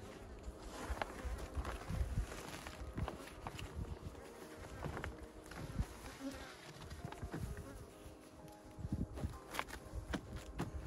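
Honey bees swarm around beehives during a late-August hive inspection, with a dense, continuous buzzing close by, joined by a few soft scuffing footsteps and light handling noises.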